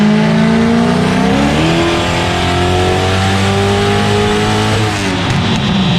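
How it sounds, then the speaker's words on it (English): A turbocharged Ford 363 stroker engine roars on a dyno, its loud, close pitch climbing and shifting through the pull with a brief dip near the end. "We'll make another hit."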